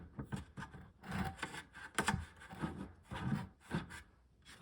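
Scratchy scraping strokes of a scribe drawn across a plastic bucket near its molded seam, a run of short rasping passes in uneven rhythm, close up and fairly quiet.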